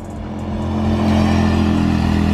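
Small engines whine and rev steadily, growing louder in the first second and then holding a constant droning buzz.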